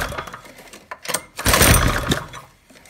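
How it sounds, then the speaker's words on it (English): A Briggs & Stratton engine on a water pump with a fuel problem sputters and runs rough, with sharp pops and a loud burst of backfiring near the end, close up and without speech. "Backfiring pretty bad."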